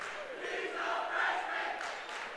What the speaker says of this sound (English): South crowd getting into it now.